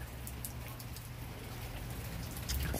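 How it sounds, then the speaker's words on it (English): Light rain falling at a beach, a steady soft patter and hiss that carries evenly throughout with a low background rumble and no voices. "Well, it's a very light rain."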